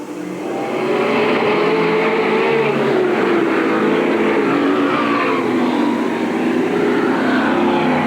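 Race cars at Eugene Speedway in 1987 roar away at the start of the A main, a loud, sustained blend of engines building in a few seconds and holding as the pack passes.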